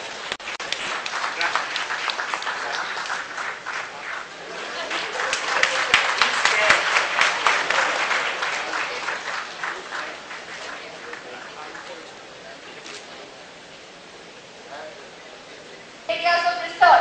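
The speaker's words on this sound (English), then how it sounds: "A huge round of applause is this great personality." Audience applause at an international dental specialties conference, a dense wash of clapping that swells and then tapers off, with a voice coming in at the end.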